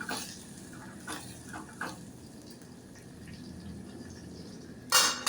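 Tomato chutney ingredients sauté with salt in a pan: soft, close stirring scrapes over a quiet sizzle, with a few distinct stir strokes and a sharp utensil clatter near the end.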